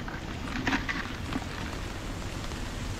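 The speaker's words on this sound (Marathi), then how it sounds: "आणि बघा पाऊस असा चालू झाला जोरात आणि आम्ही भिजणार." Heavy first-of-the-season rain falls hard in the Konkan countryside, making a dense, even, close-up hiss that continues without a break.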